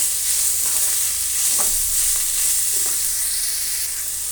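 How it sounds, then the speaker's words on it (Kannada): Carrots sizzling loudly in a pan of hot oil while being fried for upma, a dense continuous hiss with a few soft stirring scrapes. "ಸ್ವಲ್ಪ ಚೆನ್ನಾಗಿ ಫ್ರೈ ಆಗಬೇಕು ಅಷ್ಟು ತನಕ ಕ್ಯಾರೆಟನ್ನು ಈ ರೀತಿ ಫ್ರೈ ಮಾಡ್ಕೊಳ್ಳಿ"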